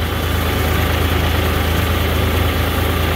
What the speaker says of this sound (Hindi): ट्रैक्टर लोड पे थोड़ा सा चल रहा है, ज़्यादा लोड नहीं है